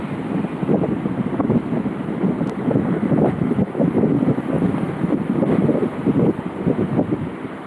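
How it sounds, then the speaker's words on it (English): Strong gusty wind blasts across the microphone outdoors at a volcano overlook, a loud, rough, fluttering roar that surges and eases continuously with no voices. "It's too windy."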